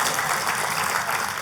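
A church congregation claps in praise during a sermon, producing a continuous, even roar of many hands, loud and sustained without breaks or voices.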